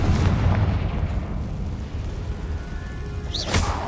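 Confringo spell blasts in the video game Hogwarts Legacy, a rumbling booming explosion that rolls on and fades, followed near the end by a brief whooshing magical burst, with no voices.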